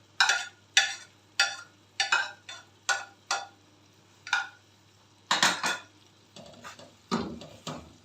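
A spoon knocks and scrapes against a metal pan as peeled eggplant is stirred for baingan bharta, giving a steady run of sharp, close clinks, with no talk.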